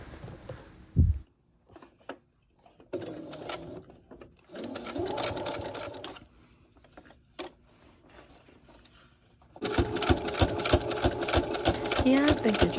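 A sewing machine attaches fabric onto a shirt in several short bursts of rapid mechanical stitching. The bursts are separated by pauses with handling noises and a thump, and the last burst is the longest and loudest.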